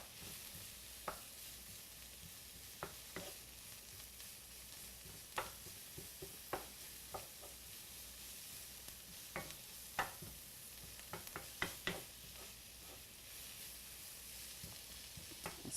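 Garlic, shallots and onions frying together in a pan: a steady soft sizzle runs throughout, with scattered sharp pops and clicks of a utensil stirring. No one speaks.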